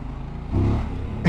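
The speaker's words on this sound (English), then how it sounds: "Like I'm barely revving it" A QJ Motor SRK900 motorcycle engine blips briefly from idle, a short low growling swell of revs, loud and close, in a clip lasting just over a second.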